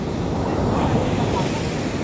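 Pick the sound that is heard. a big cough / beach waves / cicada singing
beach waves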